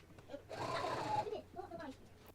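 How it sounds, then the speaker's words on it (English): A sewing machine stitches the side seams of a skirt in a short, quiet run of rapid mechanical whirring. "take it to the sewing machine and sew them down now"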